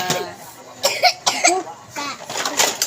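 Several coughs from a child come in quick bursts while dishes are washed at home, close and fairly loud, with a little speech between them.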